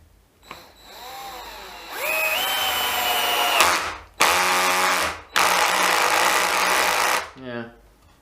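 DeWalt DCF610 cordless screwdriver driving 70mm screws, rising whine bursts repeated three times, loud and close, with a short spin-down at the end.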